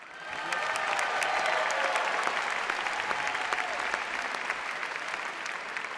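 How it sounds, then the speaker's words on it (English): An audience claps continuously at a ballroom dance festival, a dense and even wash of applause from a large crowd that holds at a steady level throughout. "Keep that applause going, ladies and gentlemen"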